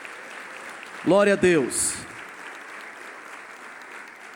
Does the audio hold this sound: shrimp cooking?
no